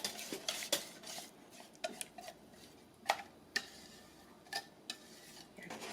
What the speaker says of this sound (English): So now what we're gonna do is we're gonna mix it in.